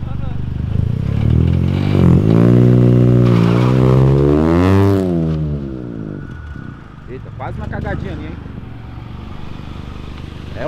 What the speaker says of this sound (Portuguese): Tá vazando o ar aqui no escapamento.